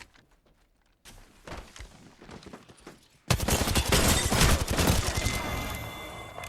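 Rapid gunfire in the Apex Legends video game: sparse shots at first, then a dense, loud burst of automatic fire with impacts through the final seconds.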